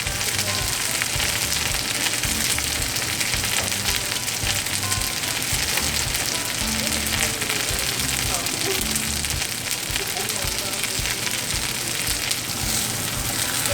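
Scallion pancake batter (pajeon) fries in a hot pan, a loud, dense, continuous crackling sizzle holding steady throughout at close range.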